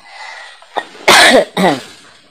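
A few harsh coughs close to the microphone, one short then two louder ones in quick succession, with quiet in between.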